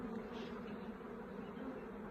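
A steady, dense hum of many honeybees buzzing together in a hive, continuous and close, with no voices.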